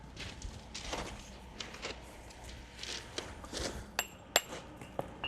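A hammer knocks the stone edges of a dry stone wall in a series of sharp, irregular clinks and taps, quiet and close, with the last few strikes ringing brighter.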